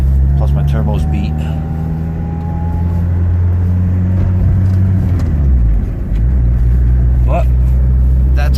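Cold Honda engine with a worn turbo, turbocharged and running an OBD1 chipped ECU with two-step, revving loudly and steadily up close, the pitch holding then dipping and climbing again, with someone talking over it.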